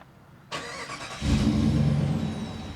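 The 5.7 liter Hemi V8 in a 2025 Jeep Gladiator cranks briefly and fires up, catching with a loud burst and settling into a deep, strong idle, close by and heard alone.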